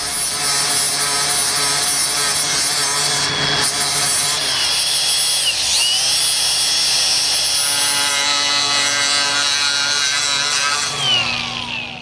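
A power tool slicing through 3/4 inch steel welded to a table, giving a loud, continuous high grinding whine that shifts pitch as it bites, with no talking.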